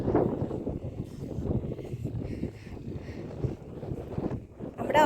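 A boat moves through water in the dark at Digha, a continuous low rumble and splashing churn mixed with gusting wind buffeting the microphone, steady and close throughout.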